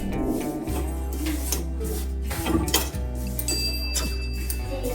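Ground dal and drumstick leaf powder stirred together in a bowl for idli podi, giving light, repeated clinks and scrapes of a spoon against the dish over a steady low hum.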